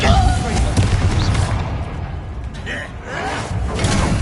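A Depulso force spell cast in the Hogwarts Legacy video game, a dense booming blast of game combat that rumbles through the clip alongside talking.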